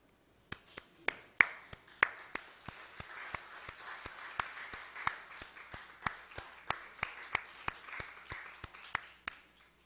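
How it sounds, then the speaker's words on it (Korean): Church congregation clapping together at the end of a service, a steady, evenly spaced beat of sharp claps lasting about nine seconds, fairly quiet and distant, with no talk. "잠깐 일어서 인사하시고 박수 치고 끝냅시다"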